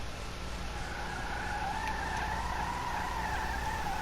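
A Pfister Neon, the electric Porsche Taycan of GTA Online, revs in the game with a steady synthetic motor whine and faint tonal hum held over a constant rumble, with no talk.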